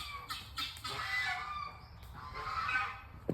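Noisy geese on a farm, a few sharp honks and clucks in quick bursts, moderately distant against a quiet outdoor background.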